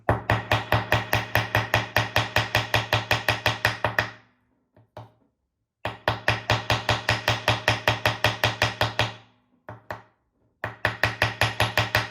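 Rapid, regular metallic hammer taps on gold on a small anvil, delivered in two long bursts separated by a short pause, close and sharp.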